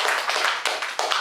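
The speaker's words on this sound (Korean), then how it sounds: "박수 한번 보내주십시다." Applause at a Buddhist Sunday service, a short run of hand claps in a few uneven surges, moderately loud and close, with no voices.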